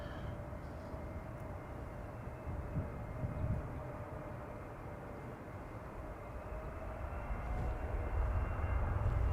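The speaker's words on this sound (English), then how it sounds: "Also hearing a big airplane spool up on runway center." Big airliner engines spool up on the runway at Amsterdam Schiphol Airport, a steady distant roar that builds gradually and alone, with no talk.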